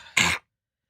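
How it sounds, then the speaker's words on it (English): A single short, sharp cough lands right on a live-streaming microphone, loud and close, then cuts off abruptly into silence. "You going to cough right in the microphone again?"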